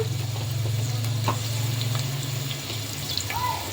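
Onions frying in a pan with turmeric powder, a soft continuous sizzle over a low steady hum, with a few faint clinks near the end.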